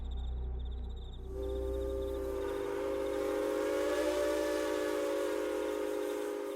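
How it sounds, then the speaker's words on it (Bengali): A train whistle blares, loud and sustained, in a steady multi-tone wail that begins suddenly after a moment of quiet insect chirping and keeps going in the eerie night setting. "বিকট হুইসেলের শব্দে চমকে ওঠে জোজো।"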